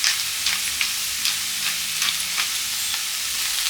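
Onions and cauliflower sizzle steadily in a frying pan with salt and pepper, a continuous close crackle broken by small sharp pops and occasional stirring, with no voices.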